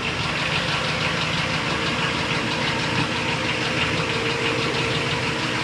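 A MerCruiser 8.1L 496 big-block marine engine on a 2003 Sea Ray runs steadily at close range, a dense, continuous rumbling idle with a faint rhythmic knock and no pauses.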